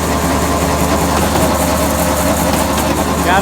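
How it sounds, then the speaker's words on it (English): Farm grinder grinding ear corn into cattle feed, a loud, continuous heavy mechanical drone with low engine rumble and steady grinding noise throughout, with no talking. "we're gonna get back to grinding"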